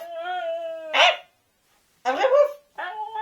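A pet dog gives short, sharp barks on command, separated by pauses, close by and loud, while a person's voice speaks in between in a home setting.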